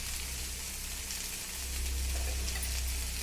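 Okra (ladies finger) fries with turmeric in a pan, giving a continuous hissing sizzle, close and steady. A low rumble swells partway through.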